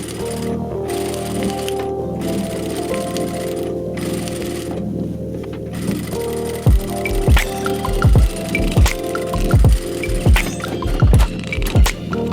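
Sewing machine fitted with a quilting foot running lines of stitches through quilted fabric for a travel cosmetic bag, a steady near mechanical whir that turns to a run of sharp rhythmic thumps in the second half, with no talk.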